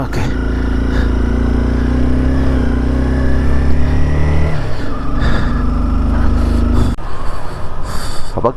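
A motorcycle ridden along a winter mountain road in Spiti, Himachal Pradesh, its engine droning loud and close throughout, with the pitch dropping and shifting as gears change and wind buffeting over it.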